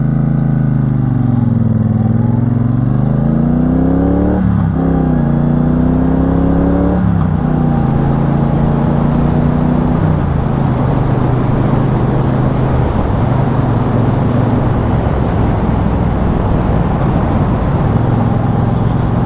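A Triumph Bonneville Bobber motorcycle accelerating hard from a standstill toward 80, its engine note rising through several gear changes with dips between shifts, then settling into a loud sustained roar mixed with wind rush.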